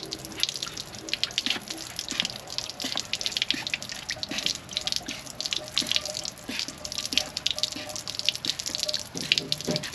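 Water and sediment draining out of a water heater after its sacrificial anode rod is removed, a steady splashing and gurgling pour with irregular drips and spatters, fairly quiet and close.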